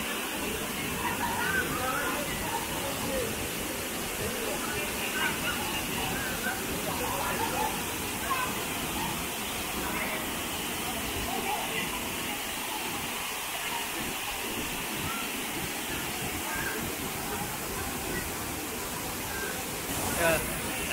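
Continuous roar of the Savdav waterfall in rural Konkan, a dense, unbroken hiss of rushing water held at an even level throughout, with a short louder burst at the very end.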